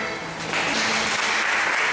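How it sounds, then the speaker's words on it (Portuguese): Members of a church congregation at a worship service clap together, a dense wash of applause that swells after a brief softer start and holds steady. "vamos aplaudir o Senhor."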